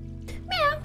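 A single short meow from a cat in the video game Stray, a brief rising-then-falling tonal cry over a low steady hum of game ambience.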